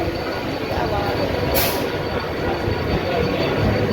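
Loud, steady rumble of a Mumbai suburban local train in motion near Dadar station, with a brief high squeal of wheels midway and indistinct voices in the background.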